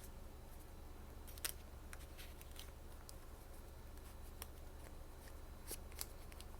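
Cash bills folded into thirds and slid into a Ridge wallet give soft, crisp paper rustles and a few sharp clicks and scrapes, close and quiet, with no talking.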